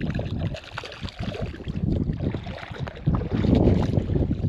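Gusty wind blows beside the water on a spinning-rod fishing outing, a rough continuous roar buffeting close to the microphone and growing stronger toward the end, with no voices.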